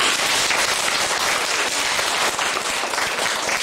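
Loud, dense applause from a crowd at a school event, a continuous wash of many hands clapping close by for several seconds.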